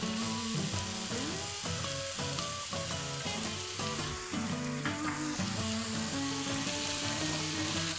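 Paprika, garlic and mushrooms sizzle and fry steadily in a hot pan while cooking beef stroganoff, a continuous close crackle under tonal background music with no talking.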